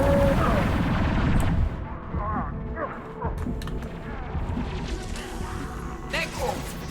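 Rapid gunfire in the Mass Effect 2 Remastered video game, with sharp shots scattered through a dense, busy battle mix and voices talking over the combat.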